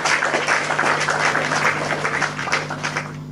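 Studio audience applause at an Indonesian talk show with Ustadz Yusuf, a dense steady wash of clapping that carries through the whole stretch over a low constant hum.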